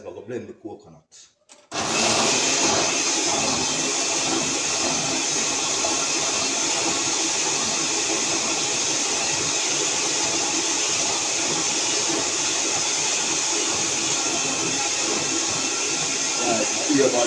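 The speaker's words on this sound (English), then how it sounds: "I'm gonna blend the coconut." A countertop blender whirs steadily at close range as it purées coconut in a Jamaican home kitchen, starting abruptly after a brief quiet handling noise and running continuously and loudly to the end.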